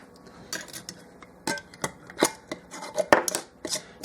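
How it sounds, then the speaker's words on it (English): A metal ring and lid go onto a glass canning jar of spaghetti sauce with a scattering of sharp, close clicks, clinks and scrapes. The sounds are irregular and come between quiet gaps. "Put the ring on it, and the lid."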